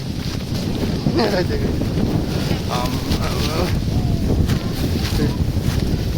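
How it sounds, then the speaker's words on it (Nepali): Strong wind gusting across a hillside tea estate in Darjeeling, a loud steady roar buffeting the microphone, with voices faintly audible beneath it. "हेर्नुहोस् न हावा कति चल्छ"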